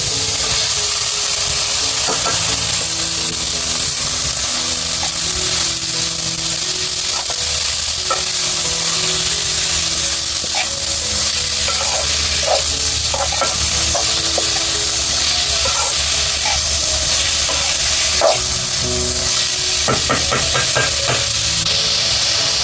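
Tomatoes frying and sizzling with browned onions in a pan for a spicy dry sukka chicken, a steady loud close sizzle with occasional stirring scrapes throughout, no voices.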